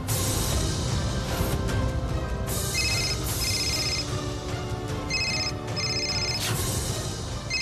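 A mobile phone rings with an incoming call in a Hindi TV drama scene, a repeating electronic ringtone pattern sounding over a busy, loud background.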